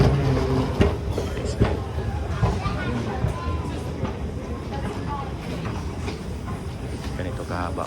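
An airport transfer tram train runs at Seattle International Airport, a steady rumbling ride with faint rail clatter under a constant murmur of nearby crowd talk.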